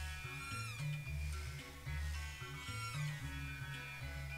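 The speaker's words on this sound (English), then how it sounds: "That's his cat" A cat meows twice in the Chrono Trigger video game, short rising calls heard over steady chiptune background music.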